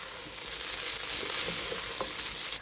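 Butter being stirred into rice in a hot frying pan for Mauritian pilau, a steady close sizzle with soft scraping of the spoon, no talk.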